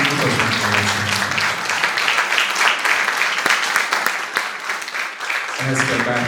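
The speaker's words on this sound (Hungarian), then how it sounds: "És már önmagában szerintem megérdemelne egy tapsot" Audience at a gala charity concert for a kindergarten in Debrecen applauds a young singer, with a full, steady crowd of clapping hands; a voice speaks briefly at the start and again as the applause fades near the end.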